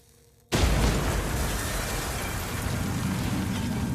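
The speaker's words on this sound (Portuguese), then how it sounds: "Uma explosão ecoa pelo complexo." A sudden loud explosion bursts inside a building complex, then a heavy, sustained roar of rumble and debris continues without fading.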